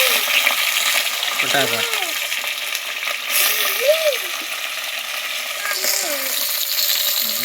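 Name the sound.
fish being added to masala and frying in pan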